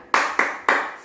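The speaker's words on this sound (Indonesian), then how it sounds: "Tepuk semangat." Three sharp, rhythmic hand claps of a classroom spirit clap for first-grade pupils, close and loud with even spacing and no voices.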